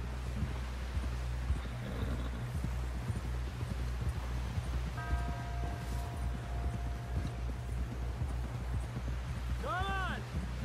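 Horse hooves clip-clop steadily in Red Dead Redemption II, riding through a snowstorm toward a camp, a constant mid-level gait under wind and ambient rumble while a voice calls out and a brief whinny rises near the end.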